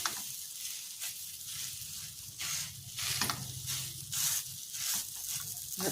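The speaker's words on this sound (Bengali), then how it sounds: "ভাজা ভাজা হয়ে গেল।" Asafoetida, chili and spices fry in a pan with a close, hissing sizzle that swells and fades in regular pulses as the mixture is stirred.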